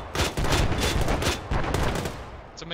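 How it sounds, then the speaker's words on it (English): Automatic machine gun fire in ARMA 3 during a mechanized combat operation, sustained loud rattling bursts nearly filling the moment, with a brief pause near the end. "It's a machine gun. Make sure you're firing in bursts."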